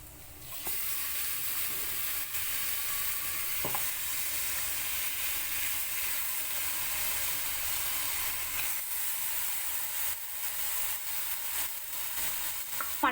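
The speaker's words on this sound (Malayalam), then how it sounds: "ഇനി നമുക്കിതിലേക്ക് മട്ടൺ ആഡ് ചെയ്ത് കൊടുക്കാം" Mutton goes into frying masala in a pan for butter mutton, setting off a loud, continuous close-up sizzle with occasional scraping stir sounds, and no voices.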